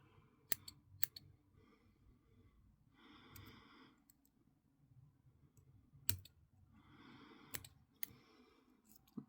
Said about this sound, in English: I'm just going to trim this end off a little bit.